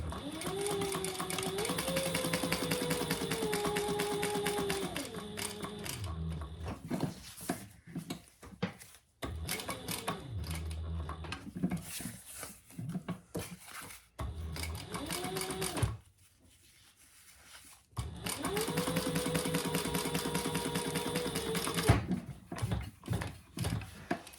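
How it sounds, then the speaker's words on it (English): A sewing machine runs in long steady bursts, topstitching rows along the seam of a crossbody bag in rainbow thread, with short pauses between passes and a brief quiet gap. "I'm just going to do a couple rows of stitches to keep that seam open"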